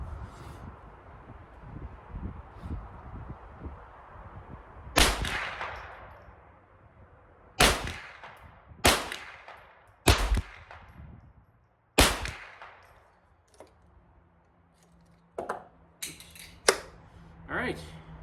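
Henry US Survival .22LR semi-automatic rifle firing high-velocity rounds at 50 yards outdoors at a range: sharp, loud cracks spaced a second or more apart, about ten shots in total, with a quiet gap between each report.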